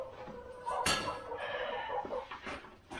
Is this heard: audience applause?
no